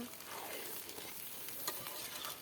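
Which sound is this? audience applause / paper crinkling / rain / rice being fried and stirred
rice being fried and stirred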